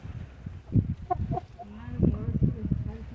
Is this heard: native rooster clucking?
yes